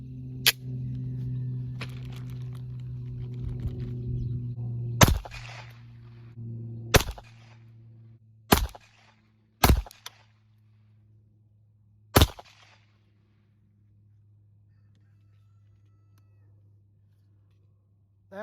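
Five sharp, separate reports from 9mm Gallant bullets loaded with 3.9 grains of Titegroup powder in Starline brass crack out at uneven intervals over a steady low hum, with quiet gaps between them.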